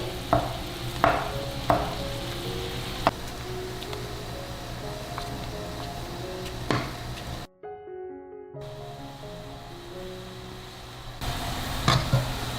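Meat paste for Fuding pork slices is scraped off a spoon with a small spoon into a pot of boiling water, bringing a few light taps and scrapes over a steady bubbling hiss, with a brief silent gap midway.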